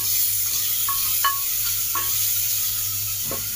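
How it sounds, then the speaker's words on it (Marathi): Chopped tomatoes added to browned onions in a hot pan, a steady sizzle of frying with a few light scrapes and stirring clinks from a spoon, close and alone. "आता आपण याच्यात टोमॅटो पण टाकूया जे कापून ठेवलेले होते"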